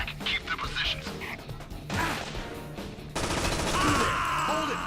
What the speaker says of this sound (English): Just running straight into a hail of gunfire.